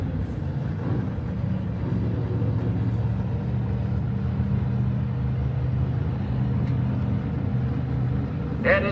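Corvette drag car idling at the staging line of a drag race, a steady low engine rumble holding evenly throughout, with an announcer talking over it.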